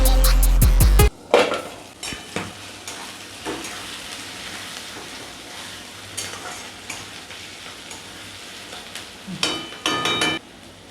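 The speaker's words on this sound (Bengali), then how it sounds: "ঢেকে দিচ্ছি, পেঁয়াজটা একটু ভাজা ভাজা হবে।" Onions and tomatoes frying in oil under a lid, opening with a sharp clatter of the lid and utensils, then a low steady sizzle with occasional knocks and another metallic clatter near the end.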